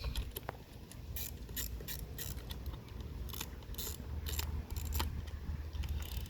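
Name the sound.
8mm socket ratchet tightening battery terminal bolts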